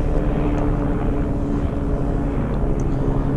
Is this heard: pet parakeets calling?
no